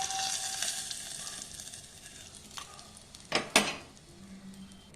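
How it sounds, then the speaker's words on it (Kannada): A hot tempering of mustard seeds and green chili is poured into a pot of rasam, a soft sizzle building to a short burst of loud crackling and metal clinks, then quieting. "ಒಗ್ಗರಣೆನ ಈ ಬಟ್ಲಿಗೆ ಹಾಕ್ತೀನಿ."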